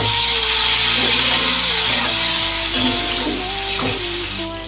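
Chili and tomato tossed into hot oil with browned onion in a pan for Bengali mutton keema ghugni, giving a steady broadband sizzle with faint stirring scrapes, fairly loud and close, easing off slightly at the end.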